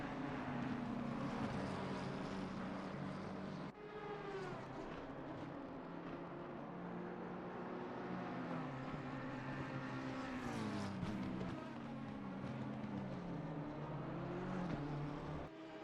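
A McLaren race car in a racing simulation at Kyalami roars steadily, with its engine note rising and falling through gear changes and dropping once sharply near the start. Other cars' engines blend underneath and no one talks.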